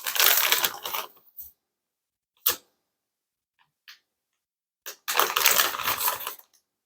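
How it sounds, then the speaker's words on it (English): Cooked beans being pushed into a quart Ziploc freezer bag, heard as two crinkly plastic-bag rustling bursts at the start and end with a few short clicks and taps between, close and no voices. "I'm going to put them in a quart freezer bag"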